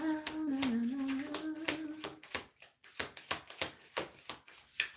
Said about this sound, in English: we're going to pull one of these Work Your Light Oracle cards